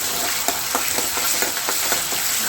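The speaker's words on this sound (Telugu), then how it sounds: "ఇప్పుడు నూనె వేడిన తర్వాత అల్లం వెల్లుల్లి పేస్ట్ వేసుకొని ఫ్రై చేసుకోవాలి." Ginger garlic paste fries in hot oil, a dense crackling sizzle with faint stirring scrapes, close and steady.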